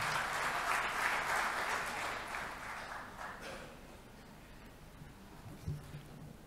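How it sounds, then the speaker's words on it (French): An audience applauds at the opening speech of a conference, with steady, dense clapping that gradually fades out. "Sous vos applaudissements"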